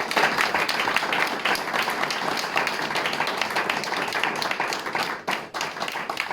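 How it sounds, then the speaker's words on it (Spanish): Hearty audience applause follows a talk on Nazi propaganda, a dense, loud, sustained clapping that holds steady throughout with a brief dip near the end. "fuerte, fuerte aplauso"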